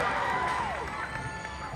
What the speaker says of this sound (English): I'm hearing the crowd